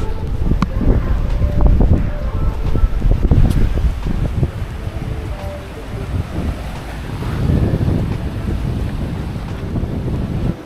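Wind buffets the microphone at Lamai Beach, Koh Samui, with surf rolling in beneath it. The gusty rumble is loud and uneven, and no one speaks.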